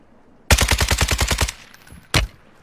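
Call of Duty Warzone automatic gunfire in a rapid burst of about ten loud, close shots, then a pause and one more sharp single shot.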